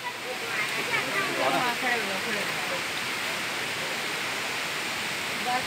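A river flows beneath a living tree-root bridge in the Meghalaya jungle, a steady rushing wash of water with a voice talking over it.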